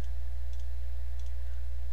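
Mouse clicks during digital inking in Photoshop, a few faint, sharp clicks in small pairs over a steady low hum.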